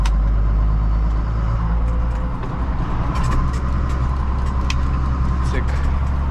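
A tractor with a sprayer pulls away across a wheat field, its low diesel rumble running steadily while light rattles and clicks come and go and a voice speaks over it.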